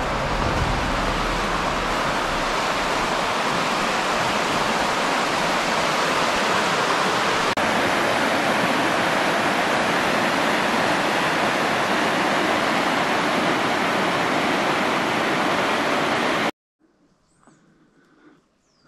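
Water rushes loudly and steadily beside a street near a mountain temple in Tono, Iwate, a dense unbroken roar for most of the stretch, ending abruptly in near silence.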